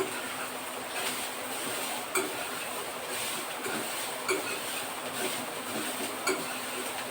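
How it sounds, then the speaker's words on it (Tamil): A steady, soft sizzle of drumstick flowers frying in a pan, continuous hissing with a few faint crackles and clicks. "நல்லா முருங்கைப்பூ வதக்கலாம்"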